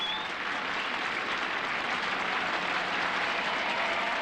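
A live television singing-contest audience at Russian Idol applauds in a steady, dense wash of clapping that holds at an even level throughout, with no voices standing out above it.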